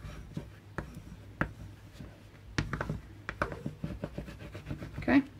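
A bone folder burnishes paper seams on a handmade purse album, short scraping and rubbing strokes at an uneven pace, close and fairly quiet.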